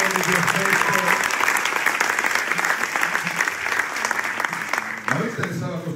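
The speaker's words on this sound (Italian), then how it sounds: "quindi faccio a voi l'applauso" At a political rally in Reggio Calabria, a crowd claps loudly and continuously for several seconds, a dense outdoor applause with a voice talking over it near the end.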